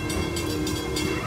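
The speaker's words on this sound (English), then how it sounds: "And look, it's the green train." Green amusement park train rolling past at Busch Gardens, a steady near rumble of cars on rails with a sustained low mechanical hum and faint rhythmic clatter throughout.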